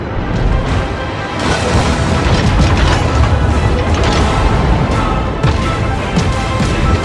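Torpedo explosions in World of Warships naval combat, a loud sustained rumbling blast with crashing booms that fades slightly near the end.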